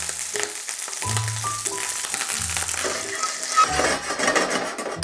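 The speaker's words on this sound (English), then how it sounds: "into a hot pan, I'm just gonna add in some butter and just a tiny bit of oil" Butter and a little oil sizzling in a hot pan, a soft steady crackle close by with light pan clatter, no voices.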